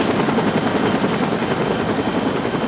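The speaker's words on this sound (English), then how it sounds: "A Metro-Dade air rescue helicopter transported Pat to Mercy Hospital in Miami" A Metro-Dade air rescue helicopter beats loudly and steadily overhead, its rotor chop and turbine roar filling the air without pause.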